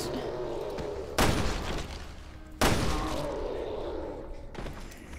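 Gunfire in the video game Resident Evil: Revelations 2: three loud, sharp blasts spaced a little over a second apart, each trailing off in a short rumbling decay over a low background hum.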